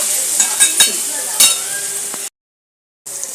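Tomatoes cook down in a pan with a close, loud, bright sizzle, punctuated by several sharp stirring scrapes and clinks of a spoon against the pan, cut off by a brief silence before the sizzle resumes.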